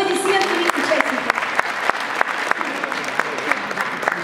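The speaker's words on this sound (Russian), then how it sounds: "Приветствуем аплодисментами участников" An audience applauds participants at an all-Russian Russian-song contest, a dense, steady clapping from a large hall with sharper individual claps standing out, while a voice is faintly heard over it.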